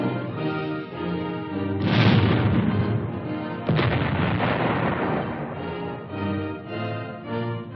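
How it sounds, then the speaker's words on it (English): A tank's fast-firing 76-millimeter gun fires twice, each shot a heavy boom with a rolling roar, under a band of loud old-style orchestral music. "Plenty of protection is carried along with it in the breech of its fast-firing 76-millimeter gun."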